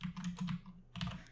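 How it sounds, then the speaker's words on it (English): Keyboard typing of a Minecraft command, two quick bursts of close key clicks separated by a short pause, with a steady low hum beneath and no voice. "Then for the next command block here, I'm going to type the command"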